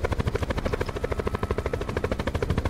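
Helicopter in the video game Call of Duty Black Ops 4 Blackout, a fast, regular rotor thump pulsing evenly throughout at moderate level, with no voices.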